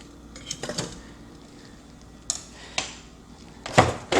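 A knife clinks and scrapes against a metal air fryer basket while vegan Italian sausages are flipped, giving sparse, close metallic taps and knocks, with a louder clatter near the end.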